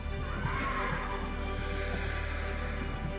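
Horses neigh and whinny while being unloaded from a cargo plane at an airport, heard over a loud continuous roar of aircraft and ground machinery.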